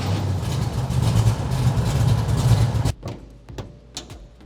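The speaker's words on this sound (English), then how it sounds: "let's get one last startup of my 68 Camaro before I pull the engine out" A 1968 Camaro engine idles with a loud, steady, deep rumble for about three seconds, then shuts off, leaving a few faint clicks and taps in a quiet space.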